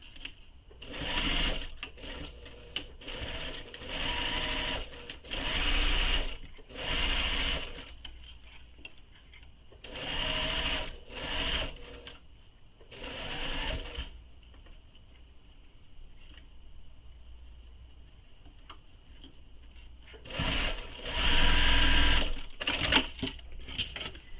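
Sewing machine stitching a handbag seam, running in several bursts of rapid mechanical whirring separated by quiet pauses, with brief back-stitch runs at the start and end, close and moderately loud.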